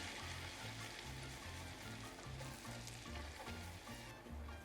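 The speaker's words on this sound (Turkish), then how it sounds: "Ununu ekliyorum. Kokusu çıkana kadar renk almayacak kavuruyorum." Flour toasting in melted butter for a béchamel gives a soft, steady sizzle with faint stirring scrapes and a rhythmic low bubbling pulse, close but quiet, with no talk.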